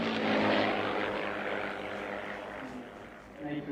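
A racing aircraft in a sport-class heat roars past with a broad, rushing propeller drone that swells and then fades slightly, while a commentator talks over it.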